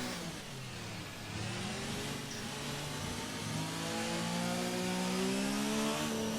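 A race car in the CCRL Division 2 sim-racing league at a Spanish circuit drones steadily with a laboring engine, its pitch slowly climbing and dipping as it is pushed, with no voices over it.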